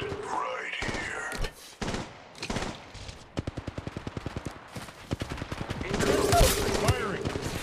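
Rapid automatic gunfire from the Apex Legends Mobile game, with Gibraltar firing in sustained bursts of evenly spaced shots, loud and close, broken by brief pauses and mixed with other game effects.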